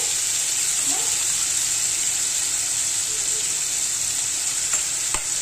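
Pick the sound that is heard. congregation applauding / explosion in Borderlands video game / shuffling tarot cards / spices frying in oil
spices frying in oil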